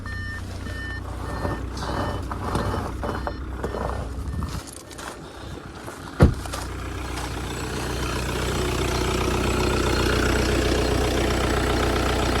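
A warm 2015 Audi A4 B8 S-Line 2.0 TDI diesel idles with a steady low drone that swells slightly later on. A single sharp knock cuts in near the middle, and no one speaks.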